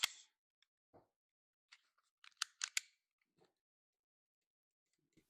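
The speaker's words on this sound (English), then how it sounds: "So let's open up the box first." A cardboard box holding a Maxzina sliding cargo tray for a mid-size truck bed is opened up close: sparse, quiet crinkles, snips and sharp cardboard crunches in short bursts, separated by silence.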